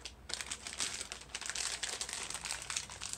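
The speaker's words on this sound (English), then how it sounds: "Very thick wrapper for sure." Thick plastic wrapper from a block of food-bank cheese being crinkled and crumpled by hand, a steady run of close, crackly rustles lasting several seconds with no talking.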